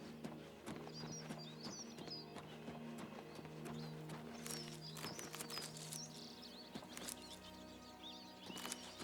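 Horse hooves clip-clop at a walk in the Oblivion Remastered video game, a string of close, clear steps with birds chirping faintly behind and no talking.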